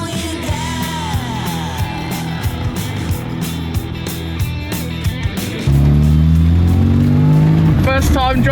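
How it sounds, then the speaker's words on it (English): Classic Mini car driving and accelerating, the engine note rising sharply and growing louder near the end, with a steady drone and occasional clicks throughout. "First time driving my Mini this year."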